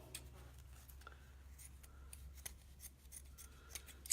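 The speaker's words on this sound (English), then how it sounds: "these scissors don't want to cut tonight" Quiet snipping and rubbing of scissors cutting ribbon, several short cuts spread across the moment with faint ticks, close by and soft; the scissors cut poorly.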